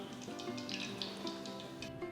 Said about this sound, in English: gently drop the chicken patties into the hot oil.